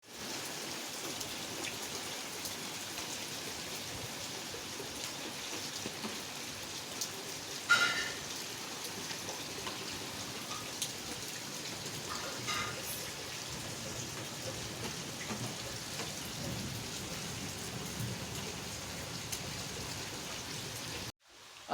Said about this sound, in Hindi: तो दिखाता हूँ मैं आपको कैसे बारिश हो रही है बाहर।